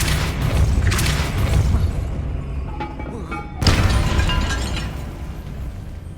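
A Depulso spell strikes with a loud booming impact in Hogwarts Legacy, followed by a second heavy burst about halfway through, over a dense rumbling game backdrop.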